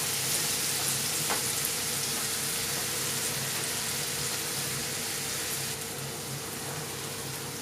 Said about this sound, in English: I just then put my chopped onions.